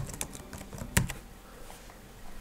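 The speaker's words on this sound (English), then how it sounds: "I'm going to type the text that I want to see into the box." Fingers tap steadily across a computer keyboard, close and fairly clear, with one sharper knock partway through the run of keystrokes.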